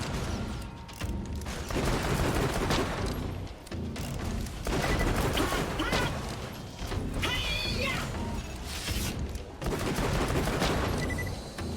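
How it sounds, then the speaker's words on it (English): Big-bullet shots in Borderlands: The Pre-Sequel, a dense run of loud, close gunfire with sharp mechanical clacks and crashes repeating across the clip amid busy game noise. "I can hear the actual clack sound when I shoot the big bullet"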